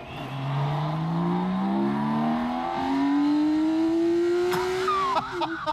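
A BMW K1600 motorcycle engine revs hard and loud, its pitch climbing steadily as it accelerates, ending in a brief crackle.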